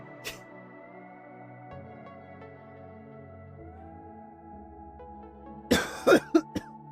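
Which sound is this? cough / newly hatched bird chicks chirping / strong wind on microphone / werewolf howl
cough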